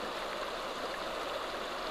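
Steady rushing river water in Sedona, Arizona, a continuous close stream of gurgling and splashing flow with no talk, holding an even loudness throughout.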